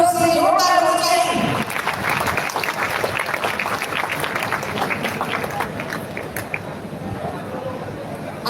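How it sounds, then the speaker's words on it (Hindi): An audience claps in welcome for a visiting SP at a school ceremony where laptops are handed to children, steady crowd applause following a brief stretch of amplified speech. "तालियां आपकी ओर से जोरदार होनी चाहिए।"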